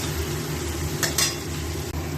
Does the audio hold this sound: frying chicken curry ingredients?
yes